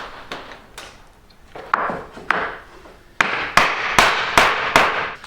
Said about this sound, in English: I use these to roughly tap the floorboard into place at the start.